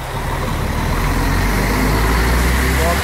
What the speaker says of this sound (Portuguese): veículo bacana aí saindo aqui da portaria